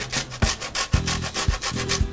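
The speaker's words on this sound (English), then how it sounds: "I'm just using a cheese grater because I don't have a zester, but this works just as well." A lime is zested on a cheese grater in a home kitchen, giving a rhythmic rasping scrape about twice per second, each stroke ending in a light knock, close and clear with no talking.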